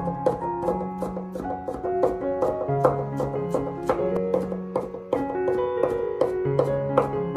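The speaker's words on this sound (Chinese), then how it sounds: "然后再改刀把它剁成蒜末。" A knife minces garlic on a cutting board with a long run of quick, steady chopping taps, close and moderately loud, while background music plays underneath.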